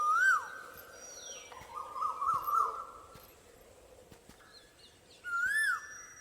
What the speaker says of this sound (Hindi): ये है कोयल। कोयल कूक रही है।